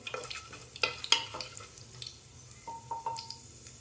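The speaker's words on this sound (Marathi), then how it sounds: "आणि तेजपत्ता आणि एखादं मिनट आपलं हे परतून घ्यायचं आहे तेलामध्ये" Bay leaf and whole spices sauté in hot oil for spinach pulao, a light crackling sizzle with a few sharp clinks and scrapes of a utensil, close by and without talk.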